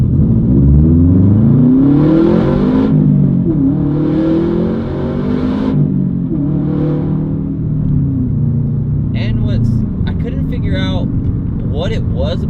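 Stock Subaru WRX STi with a boxer engine pulling hard in first gear after a clutch release from 3,500 RPM, engine note climbing in repeated rising sweeps with gear changes, close and loud under someone talking from the cabin.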